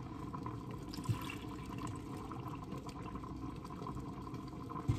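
Milk pours steadily into a pot of creamy corn chowder with potatoes, making a soft, continuous liquid trickle at moderate distance with no talk.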